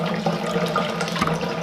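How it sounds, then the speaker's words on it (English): Water poured steadily over a grain bed in a home beer-brewing mash, a close, continuous splashing and trickling with no speech. "I try not to dump a bunch in there and disturb that grain bed down there."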